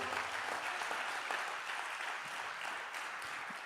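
A church congregation applauds for a few seconds, producing a steady wash of many hands clapping together. It is fairly distant and even, with a few isolated low thumps.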